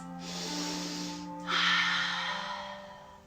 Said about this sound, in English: take some deep belly breaths